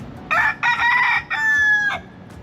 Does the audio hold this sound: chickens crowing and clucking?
yes